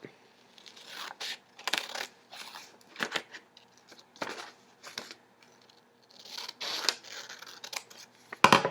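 Scissors cut a triangle out of paper in a series of quiet snips and rustles, irregular bursts with brief pauses between, close and soft.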